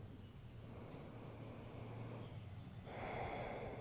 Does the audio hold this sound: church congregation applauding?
no